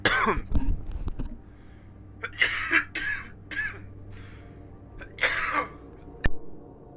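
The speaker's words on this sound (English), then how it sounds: "I'm coughing up right now." One person coughs and clears their throat in several harsh, close bursts spread over a few seconds, with quiet gaps between them in an otherwise still room.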